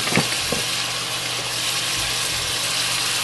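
Raw chicken breast sizzling in a pan, a steady moderate hiss throughout with a couple of brief knocks near the start, no talking.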